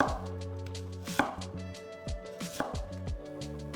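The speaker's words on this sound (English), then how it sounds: "Cut the ginger up into slices." A knife chops young ginger into slices on a cutting board, giving a series of crisp close knocks at an uneven, unhurried rhythm over faint background hum.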